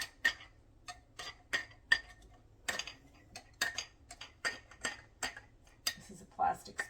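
A plastic spoon packs sweet and sour chicken down into new glass jars, making irregular sharp clicks and taps at close range, roughly a dozen knocks spread across several seconds.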